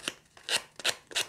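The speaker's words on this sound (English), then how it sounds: "I'm literally just going to take a little bit of sandpaper." Sandpaper rubbing the edges of a Rickenbacker 620/12 guitar build, four short rasping strokes in an uneven rhythm, close and clear with no talk.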